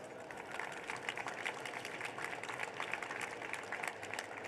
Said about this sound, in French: vous pouvez déjà, d'ores et déjà, applaudir